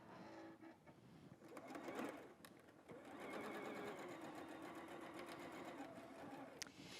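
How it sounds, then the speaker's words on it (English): A sewing machine runs steadily along a quarter-inch seam while piecing a quilt, its motor whirring and needle chattering continuously at close range, with a brief pause and restart partway through. "Want to make sure you're sewing a 1/4 inch seam."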